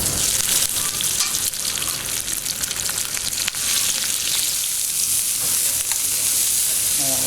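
Langoustines sear on their backs in a pan, giving a loud, close, unbroken sizzle with fine crackles and a few sharper pops, and no voices.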